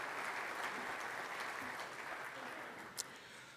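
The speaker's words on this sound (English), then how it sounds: "So, yes, applause." An indoor audience at a school education awards celebration applauds, a dense steady clatter of clapping that slowly fades over a few seconds.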